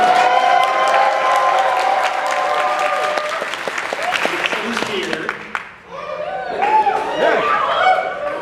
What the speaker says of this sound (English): one more round of applause for our wonderful musicians this evening